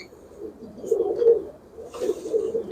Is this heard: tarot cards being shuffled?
no